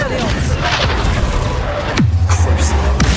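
A Confringo spell blast in Hogwarts Legacy, one loud booming impact with a deep falling rumble that follows a busy stretch of game combat noise, and a few more thuds trail after it.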